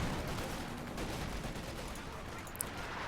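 An Ostwind anti-aircraft tank firing in Company of Heroes 2, with rapid repeated gunfire bursts amid battle noise and a sharp crack near the end, a voice talking over it.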